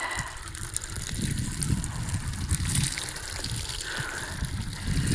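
Water is poured from a container onto prepared garden soil for planting lettuce, tomatoes and peppers, making a steady close gushing and splashing that runs for several seconds without a break.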